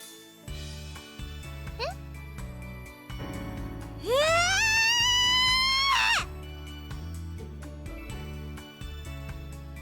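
A girl's loud, rising, high-pitched scream lasting about two seconds cuts through a visual novel game scene, set against light background music with tinkling notes before and after.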